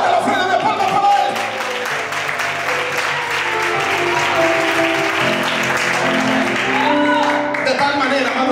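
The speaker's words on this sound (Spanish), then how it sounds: "Fuerte la ofrenda de palmas para él." Church congregation applauding at an evangelical service, a sustained, dense round of clapping that fills the room, with music playing underneath and occasional shouts from the crowd.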